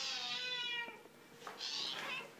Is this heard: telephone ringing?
no